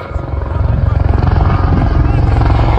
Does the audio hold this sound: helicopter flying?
yes